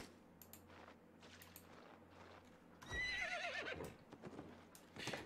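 A horse in the Albion Online video game gives a loud whinny midway, with clip-clopping hooves and faint scattered clatter before and after.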